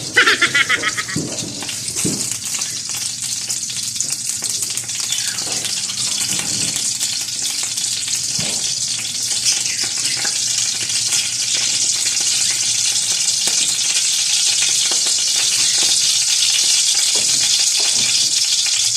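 Bacon fries in a pan for carbonara, a loud, steady hiss and crackle of hot fat that swells slightly over time, with faint clinks from the cookware.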